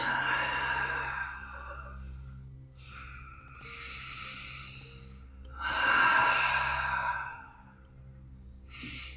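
Deep breaths drawn in and slowly exhaled during a yoga session, long airy inhales and sighing exhales in a few slow cycles, close and fairly quiet with no talking.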